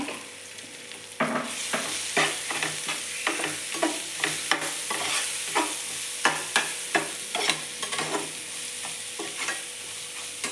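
Methi (fenugreek leaf) curry fries in a pan, a continuous sizzle broken by a regular run of sharp scraping strokes as a spatula stirs it, close and fairly loud, with no talking.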